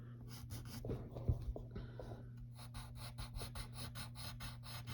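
A pencil scratches across paper in short strokes while Ursula's chin is drawn, a close, quiet rasp that alternates with pauses over a faint steady hum.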